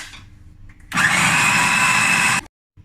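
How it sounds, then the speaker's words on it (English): A kitchen blender whirs loudly for about a second and a half while mixing chicken liver paste with paprika, starting abruptly and cutting off sharply into silence. "And mix it in blender."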